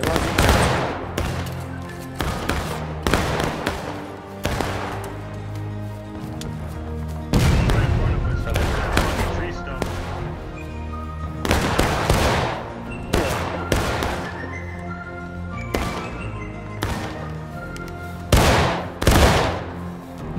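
Musket volleys in a War of Rights line battle, with ragged bursts of massed rifle fire cracking out again and again over about twenty seconds, loud and close, mixed with shouted orders and talk.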